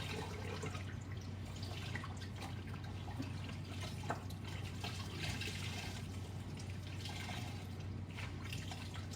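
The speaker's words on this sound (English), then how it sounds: "Our next step is going to be Wringing out the shirts." Water drips and trickles steadily as wet tie-dyed shirts colored with food coloring are wrung out, close and continuous over a low hum.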